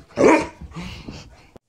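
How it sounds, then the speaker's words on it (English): A big dog barks once, loud and close, followed by a softer grumbling growl and a brief final yip. "Big dog right here."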